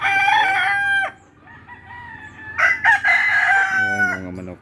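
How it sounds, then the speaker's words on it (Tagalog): A rooster crows loudly up close, then clucking hens and a second crow follow, overlapping in a busy backyard chorus. "Ayan mga manok dito guys."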